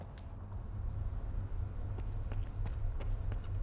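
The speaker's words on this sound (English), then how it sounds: "I hear those footsteps, and that makes me very uneasy hearing that." Footsteps in a video game, heard while moving through a dark building: a steady run of soft, fairly close steps over a low ambient hum, with no voices.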